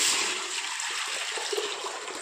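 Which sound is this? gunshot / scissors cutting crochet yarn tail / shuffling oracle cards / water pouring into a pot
water pouring into a pot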